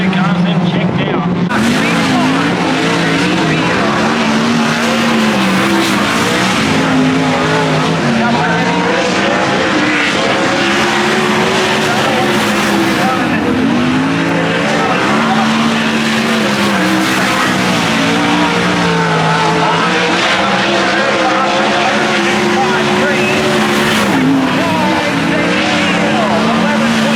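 Race cars roar past on a racetrack, engines rising and falling in pitch as they pass, with tire squeal and a commentator talking over the steady, loud racket throughout.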